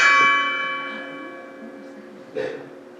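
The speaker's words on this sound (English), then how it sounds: "he heard the bell strike one." A single loud clock bell strike rings out and slowly decays, its resonant tone lingering, with a faint knock shortly after.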